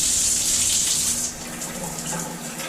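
A hotel shower runs on its jet setting at a Home2 by Hilton in Orlando, giving a steady, close hiss of spraying water that eases slightly partway through.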